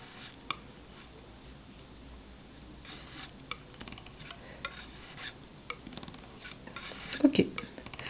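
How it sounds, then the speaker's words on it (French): Sennelier Green For Oil paint being stirred into gel medium: quiet scraping with soft scattered ticks and clicks, growing into a louder scrape near the end. "je vais prendre quasiment toute ma peinture et je vais mélanger avec mon"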